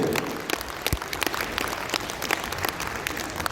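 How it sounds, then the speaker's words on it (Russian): Audience applause for the dance group «Кналы» at a charity concert for fire victims, steady dense clapping from a crowd with a few sharper claps standing out, moderately loud throughout. "Ваши аплодисменты танцевальный коллектив «Кналы»"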